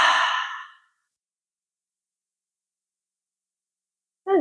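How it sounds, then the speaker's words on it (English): A single deep yoga exhale, soft and close, fading out over under a second, followed by near silence and the start of the next breath. "taking another nice deep breath in. And let it go."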